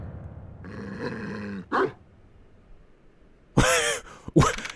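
A dog growls in the video game Ace Attorney Investigations 2, a low rumbling snarl followed by short sharp barking bursts and a final yelp-like snap, loud and close with no talk over it.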